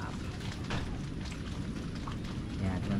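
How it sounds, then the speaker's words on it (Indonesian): Heavy rain pours steadily at Ndlodo Beach, a dense continuous hiss with low rumbling underneath and a person's voice faintly present under the downpour. "Apalagi pas hujan, hujannya hujan gila ini, mantap."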